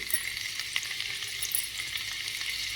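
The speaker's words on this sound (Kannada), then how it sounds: "ಇವಾಗ ನಾನು ಬೆಳ್ಳುಳ್ಳಿ ಹಾಕ್ತಾಯಿದ್ದೀನಿ" Garlic frying in a pan for shavige pulao gives off a steady close sizzle, a bright hiss that holds even throughout with small crackles and no voices over it.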